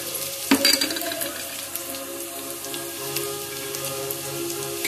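Fenugreek, coriander seeds and cumin roast in a pan, giving a faint, even crackling sizzle with a sharp knock near the start and light scattered ticks throughout.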